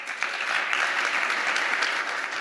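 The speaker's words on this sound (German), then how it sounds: "Applaus" Steady studio audience applause at the close of a televised political discussion, a dense, even wash of clapping that fills the whole short stretch without talk.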